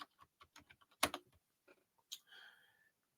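Computer keyboard typing, a handful of crisp key clicks and taps in an irregular burst, close and quiet with brief pauses between strokes.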